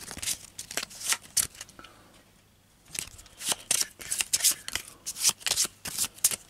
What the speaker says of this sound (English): Let's shuffle the pile back up.